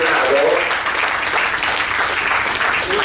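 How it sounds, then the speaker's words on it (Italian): Steady, full applause fills a bookshop as an audience welcomes an author to a book presentation, a dense wash of clapping lasting the whole stretch with a murmur of voices underneath. "farei un grandissimo applauso"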